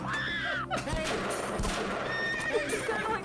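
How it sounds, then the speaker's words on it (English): A horse whinnies loudly indoors, its hooves clopping and thudding on the floor amid a chaotic, crowded room, with sharp bangs and raised voices mixed into the busy scene. "Get that horse out of here."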